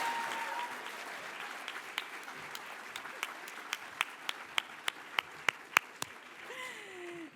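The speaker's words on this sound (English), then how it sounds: "A round of applause, please, for Kayla." Audience applause at a dual enrollment recognition ceremony for Montgomery College and MCPS students, a steady patter of many hands under a few sharp, louder claps near the mic, fading out at the end.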